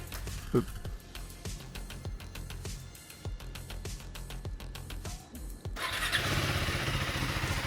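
A KTM ADV 390 R motorcycle is started: several clicking starter attempts, then the single-cylinder engine catches and settles into a steady, close idle.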